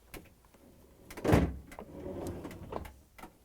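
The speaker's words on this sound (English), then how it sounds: "we're going to let the drawer down and push it in so it will locks down at the bottom" A Samsung refrigerator freezer drawer is pushed in on its tray rollers along the rails, giving one firm rolling thud followed by a softer sliding rumble close by, with no talk.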